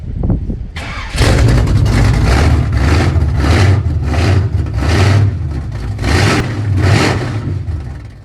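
A small-block Chevy V8 in a C10 pickup cranks and fires, then revs hard in repeated loud surges. It is very close and fills the scene on its own.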